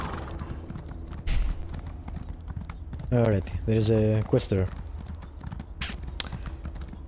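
Horse hooves clip-clop in Elder Scrolls Online, a steady rhythmic trot under intermittent talking, with a brief whinny-like burst midway.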